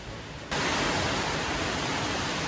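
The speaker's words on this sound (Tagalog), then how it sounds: "Tapos yun yung kaunti pong ulan niya." Light rain falls steadily outside a house during Typhoon Uwan, a dense, even hiss that starts abruptly after a brief quieter moment and holds at a constant level with no voices.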